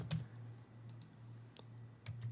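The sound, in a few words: typing a number on a computer keyboard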